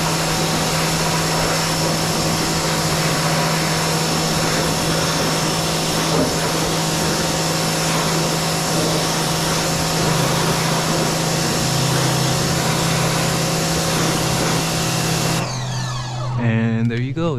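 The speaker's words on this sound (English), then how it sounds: "And you just want to rinse it off." A water sprayer rinses a car tire with a loud, steady hiss of spray that runs unbroken for most of the clip, then cuts off near the end as a voice briefly speaks.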